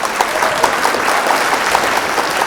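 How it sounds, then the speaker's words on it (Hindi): Audience at a Hindi kavi sammelan poetry recital in Raigarh, Chhattisgarh claps steadily, a dense, even wash of many hands with no voices over it. "अगर महसूस किया है तो तालियों से मुझे एक बार बताइए"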